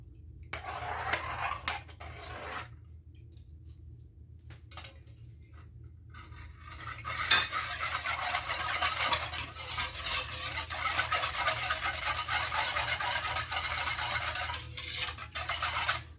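A spoon stirs and scrapes through a kunafa cream mixture in a pot on the stove, faint and intermittent at first, then a steady, continuous swishing scrape with light clinks for the remaining seconds, close up and with no talking.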